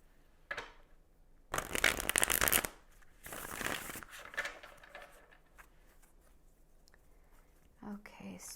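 Osho tarot deck cards being shuffled by hand, heard as two close, crisp rustling bursts of a few seconds each, followed by quieter handling noises.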